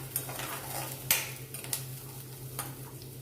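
Green peas sautéing with onions in oil in a pan, a quiet steady sizzle with a few distinct clinks of a spoon against the pan, under a low hum.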